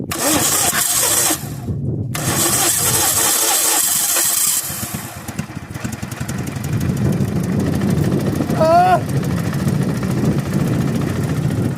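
A mini tractor engine converted to run on LPG cranks and catches, then settles into a loud, steady close-up idle with rough mechanical clatter; a short whistle-like tone rises briefly over it near the end.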